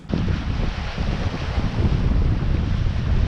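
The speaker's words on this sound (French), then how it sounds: "Il y a un bon petit vent et c'est parti." Strong wind buffeting the microphone with a roar of water and waves aboard a sailboat under sail without engine, a continuous rushing outdoor noise with no talking.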